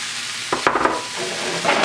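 Beans, onion and chili powder sizzle in a hot pan, a steady fry with a few quick scraping stirs near the middle.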